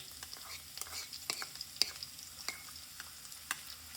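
Grated ginger fries in hot oil in a pan, a quiet, close sizzle with scattered light stirring clicks and scrapes.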